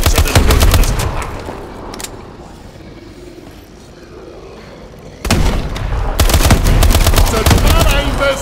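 Loud, dense automatic gunfire from Call of Duty: Advanced Warfare, rapid bursts filling the opening seconds, dropping to a quieter rumble midway, then resuming at full intensity, with a voice now and then.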